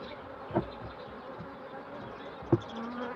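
Honey bees drone softly around a hive that is being split in two, a low continuous buzz with a couple of brief louder passes nearby and no talk.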